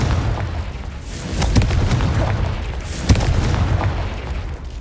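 Confringo blasting spell explosions in the video game Hogwarts Legacy: a low rumbling blast bed with sharp bursts, the loudest crack near the end, over continuous battle noise.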